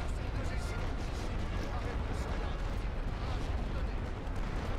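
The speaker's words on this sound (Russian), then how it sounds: "А вон и вражеская артиллерия" Enemy artillery fire from a World War I Western Front battle game, heard as a dense, continuous low rumble of distant shelling that runs under steady battlefield noise throughout.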